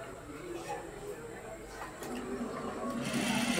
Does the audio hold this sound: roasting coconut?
no